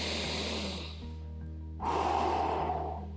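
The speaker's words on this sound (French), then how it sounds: "C'est une respiration qui va s'étaler sur le nombre de pas choisis." Slow rhythmic breathing during a walking breath exercise, a long inhale followed by a stronger exhale, close and fairly quiet with a steady low hum behind it.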